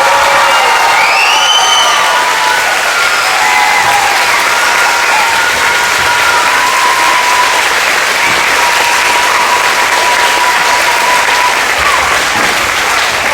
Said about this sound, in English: So can we give Mrs. Thompson a huge round of applause for that?